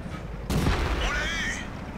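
A single loud, near cannon shot from an H35 tank in a video game bursts out sharply and is followed by a fading metallic ringing whine, with a voice talking over it.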